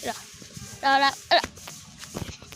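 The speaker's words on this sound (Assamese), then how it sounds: "এত হল আমার ছাগলী" A pet she-goat on a small home farm bleats twice, a longer wavering call followed by a short one, close by amid quiet background movement.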